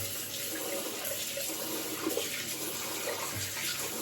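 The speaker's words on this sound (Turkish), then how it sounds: "Şu an sıcak suyu akmasını bekliyorum." Hot water runs steadily from a household tap, a soft continuous hiss and splash heard alone at low level throughout.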